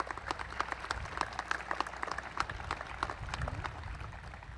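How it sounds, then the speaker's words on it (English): Audience clapping at the official opening of the Royal Roads University Langford John Horgan campus, scattered distinct claps from a modest crowd, fairly faint and distant, lasting several seconds. "How about another round of applause?"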